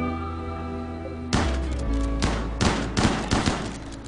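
Colonists in RimWorld shooting at a turtle: a sudden loud burst of gunfire followed by several more distinct volleys at roughly half-second intervals, each with a sharp attack and a ringing tail, over a steady background.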